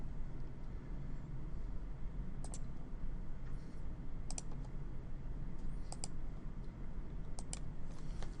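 Computer keyboard keys are pressed in short, crisp clicks, a few scattered taps including the backspace key, fairly close over a low steady hum.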